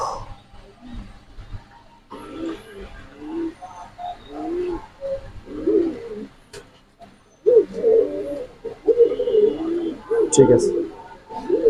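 Pigeons coo repeatedly at a pigeon farm in Mirpur, with soft throaty calls rising and falling throughout, at times loud and close, while people talk over them.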